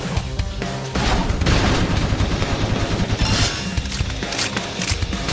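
Rapid gunfire in the video game Xenoblade Chronicles X, dense bursts of shots and booming impacts packed into a few seconds of loud, continuous combat noise.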